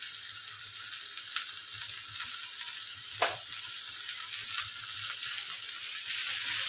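Telpat wild greens frying with turmeric and salt, a steady bright sizzle with faint stirring and one sharper scrape near the middle, close and moderately loud, with no voices.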